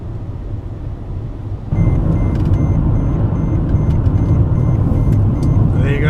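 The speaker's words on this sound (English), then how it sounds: "The beeping you hear is the alarms saying stop vehicle, it is braking." Repeated electronic warning beeps sound inside a car that is braking with a failing alternator on a South African road trip. The beeps ring steadily over a loud engine and road rumble that swells partway through.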